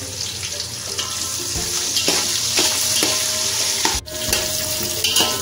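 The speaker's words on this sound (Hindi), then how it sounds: "प्याज को थोड़ा सा भून लेंगे सॉफ्ट होने तक।" Chopped onion fries in a pan while being stirred, with a continuous close sizzle broken by scraping utensil strokes and a couple of sharp knocks, and no talk.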